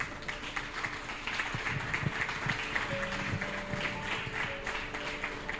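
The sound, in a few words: congregation applauding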